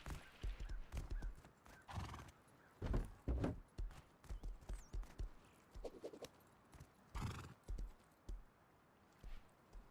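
Horses in the video game Rust whinny and neigh repeatedly at a moderate distance, with sharp bursts of hoof clip-clops scattered between the calls over a quiet background.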